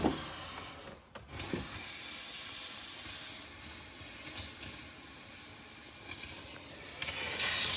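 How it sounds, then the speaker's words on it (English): A handheld steamer blasts steam into an LG/Kenmore refrigerator to defrost its ice buildup near the ice maker, giving a continuous close hiss that briefly cuts out around one second and surges louder at the end. "and look at the steam"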